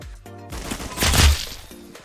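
Gunfire in the Roblox shooter Arsenal, a short cluster of sharp shots swelling to a louder crack at its midpoint amid game tones.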